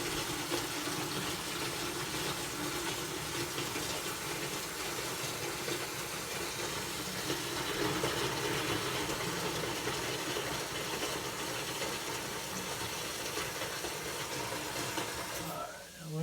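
Water flushes steadily through a Navien tankless water heater to clear vinegar from the system, making a continuous loud gushing rush that holds for the whole stretch and then cuts off abruptly near the end.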